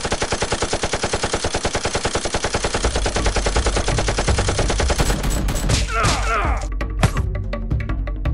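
Rapid, loud bursts of toy Nerf gun fire in a staged Nerf battle, a dense continuous stream of shots for the first seconds before breaking into scattered thumps, clatters and crashes.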